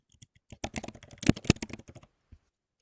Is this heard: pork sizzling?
no